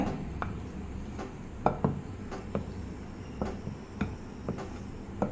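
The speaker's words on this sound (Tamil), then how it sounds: "ரொம்ப வேகமாக கிளறாமல் இதே மாதிரியே கிளறி விடணுங்க நம்ம கிளறும் போது ஒரே ரொட்டேஷனில் கிளறணுங்க" Spoon stirring sponge cake batter in a bowl, giving light, irregular clicks and taps against the bowl over a soft, steady background.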